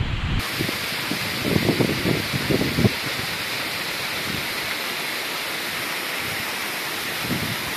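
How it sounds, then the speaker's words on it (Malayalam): Kuskem waterfall in a forest in South Goa gives a steady, full roar of falling water. A few low rumbling thumps come early on, close to the microphone. "ഫോറസ്റ്റിൻ്റെ അകത്ത് ഒത്ത നടുക്ക് നല്ലൊരു വാട്ടർഫോൾസ്."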